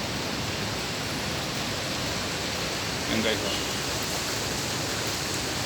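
Heavy rain pours steadily during a ride home, a dense, even hiss filling the whole scene, with a brief voice breaking in partway through.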